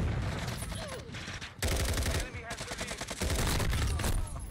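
Rapid gunfire bursts from a shooter video game, loud and dense, with a brief lull near the middle before the firing resumes.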